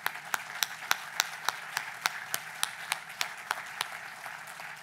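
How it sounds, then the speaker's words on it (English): Audience applause at an anniversary celebration, a thin, evenly paced clapping with distinct individual claps, fairly close and steady for several seconds. "So give these guys a round of applause."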